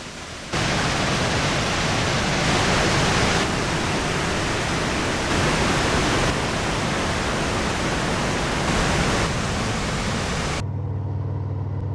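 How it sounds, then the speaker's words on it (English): Waterfall cascading over a series of rock ledges, a steady, loud broadband rush that holds evenly for most of the stretch before cutting off abruptly near the end. "What an amazing waterfall."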